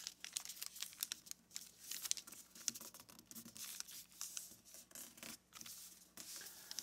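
Origami paper is folded and pressed flat with soft, continuous crinkling and rustling, punctuated by small crisp creases. The sound is quiet and close, with no voices.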